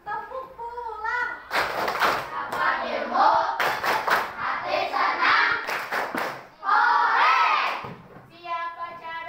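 A school class performs a rhythmic tepuk pulang clapping chant, children shouting the words together in a loud sing-song voice between sharp, closely spaced bursts of group hand claps, ending with a final cheer.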